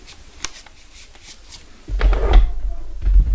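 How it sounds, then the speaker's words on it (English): A drawer in a home is opened or closed, and items shuffle inside it. Light rustling comes first, then a louder, close sliding rumble with scraping that lasts about a second and a half and ends in a thud. "That's in the Linda drawer"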